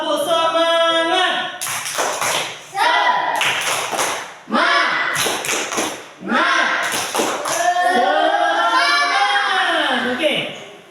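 A class of students at a madrasah does a rhythmic spirit clap in the classroom: sharp bursts of group clapping alternate with children's chanting voices, loud and close throughout.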